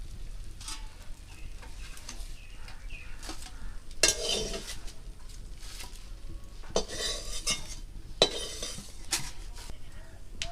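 Palm pitha being turned and stirred in a pan, spatula and metal clinks scraping at intervals over a steady low sizzle of frying, fairly close.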